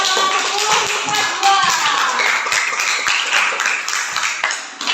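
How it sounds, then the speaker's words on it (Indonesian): A class claps continuously, a dense patter of many hands close by, with a few children's voices mixed in. "Tepuk tangan luar biasa."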